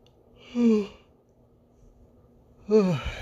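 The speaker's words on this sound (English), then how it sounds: "Had a yawn just now." Two drawn-out, voiced yawning breaths with a sighing, falling tone, separated by a quiet pause, close to the listener.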